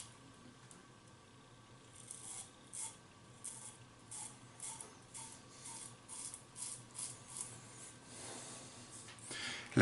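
A safety razor with an Astra Superior Platinum blade makes its first pass over lathered skin: close, quiet rasping scrapes in short repeated strokes, faint and steady, with no talk.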